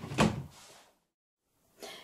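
A drawer on a baby's changing table slides shut with a short, soft thump, followed by a brief silence and then a faint second knock or rustle.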